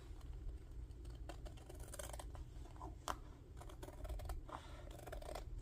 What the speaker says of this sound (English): So I'm going to try to cut this with my scissors the best I can.